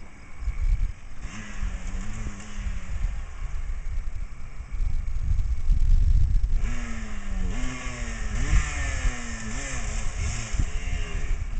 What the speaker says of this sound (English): the bike's breaking up on him again